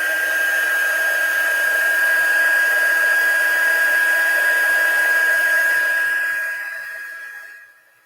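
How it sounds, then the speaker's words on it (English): A heat embossing tool blows hot air in a loud, steady high-pitched whine and whoosh for several seconds, then fades out as it powers down. "then I'll heat emboss"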